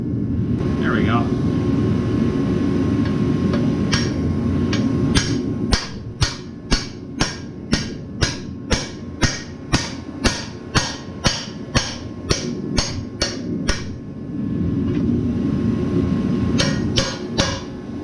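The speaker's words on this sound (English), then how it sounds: "you got to beat the other cap back through." Metal hammer blows driving a U-joint cap back through the yoke of a factory GM driveshaft, a steady run of about a dozen sharp, loud strikes in quick rhythm, with a low rumbling background and brief speech before and after.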